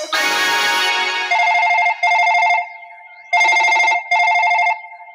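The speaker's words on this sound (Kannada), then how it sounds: "ಈಗಿಂದೀಗಲೇ ಇನ್ಸ್ಪೆಕ್ಟರ್ ವಿಜಯ್ಗೆ ಫೋನ್ ಮಾಡಲೇಬೇಕು" A telephone rings in repeated electronic trill bursts, loud and close, after a brief burst of other sound at the start, during a Kannada stage drama scene as a call is being placed.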